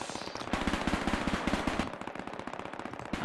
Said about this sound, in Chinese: 这个机枪先不管它